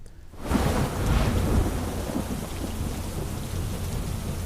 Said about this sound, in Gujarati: ડાંગ જિલ્લામાં ધોધમાર વરસાદ વરસી રહ્યો છે.